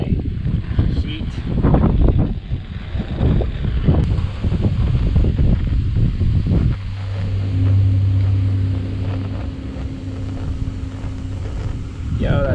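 Gusty wind buffets an outdoor microphone on a farm during corn harvest while someone heat-shrinks wire connectors, a steady broadband rumble that continues as a low engine hum joins in partway through.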